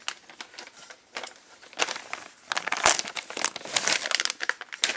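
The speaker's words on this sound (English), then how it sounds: "So we're going to open parts bag" Plastic parts bag for an Axial Exo Terror RC buggy kit being torn open and handled, a close, busy run of crinkling and rustling that grows denser and louder toward the end.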